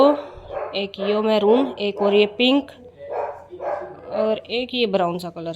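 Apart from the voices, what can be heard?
dog barking at the house behind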